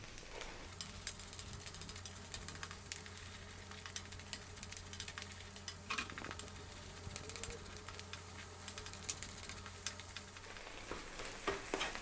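Egg sizzles steadily while being scrambled and pushed around a wok over high heat for special fried rice, with faint scraping stirs over a constant frying hiss and no talking.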